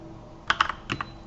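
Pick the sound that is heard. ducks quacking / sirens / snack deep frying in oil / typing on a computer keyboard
typing on a computer keyboard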